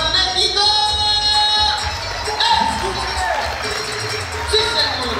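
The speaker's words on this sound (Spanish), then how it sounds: "¡Un aplauso para México!" Audience cheering and shouting at the Mexican Music Awards ceremony, a dense, loud wash of crowd noise filling the hall with rising whoops and excited voices throughout.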